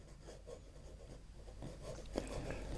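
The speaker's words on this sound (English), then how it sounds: "the first time this nib has been put to paper by me" A 1920s Sheaffer Jade fountain pen with an extra-fine nib writes on paper, giving a faint, soft scratching that runs steadily with one small sharper tick near the end.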